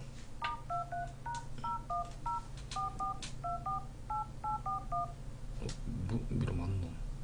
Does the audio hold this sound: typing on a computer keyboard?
no